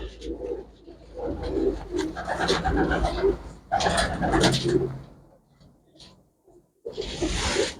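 A pigeon coos nearby in repeated, fairly loud throaty bursts, pausing between phrases before starting again.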